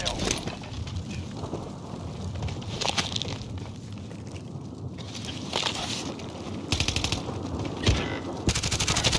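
Rapid, dense gunfire crackles in a battle royale video game, bursts of automatic shots layered over a constant noisy battle bed, loud and continuous, with some faint voices beneath.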